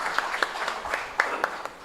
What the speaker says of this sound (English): And can we have a huge round of applause for sir?